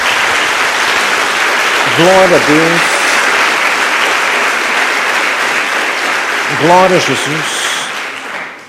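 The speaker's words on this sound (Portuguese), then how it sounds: "Dê uma salva de palmas a Jesus." A church congregation applauds loudly and continuously, while a voice calls out praise twice over the clapping.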